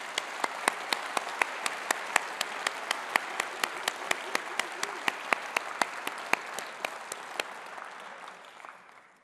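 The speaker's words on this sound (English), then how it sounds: "Let's give them a round of applause." A hall audience at a party conference speech applauds steadily, with a sharp, regular clapping beat running through the dense wash of hands before the sound gradually dies away near the end.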